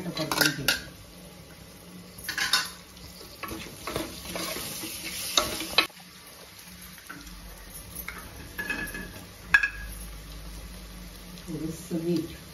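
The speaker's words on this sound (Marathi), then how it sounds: "मसाला परतून झाला तर टोमॅटो परतून घ्यायचा" Tomato and spice masala fry in a pan, with a soft sizzle and intermittent clatter from a spoon scraping and stirring against the metal. Some quiet talking comes between the bursts of stirring.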